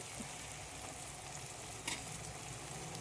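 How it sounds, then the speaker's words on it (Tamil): Turkey berries (sundakkai) sauté in a pan with a steady, soft sizzle and frying crackle, and a brief stir-scrape comes midway, with no voices. "சுண்டக்காய் போட்டு நல்லா வதங்கிடுச்சு"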